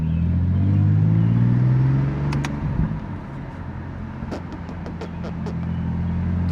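A 480whp BMW F80 M3 drives on back roads, its exhaust a steady low rumble that swells and eases, heard from inside the car with no talk.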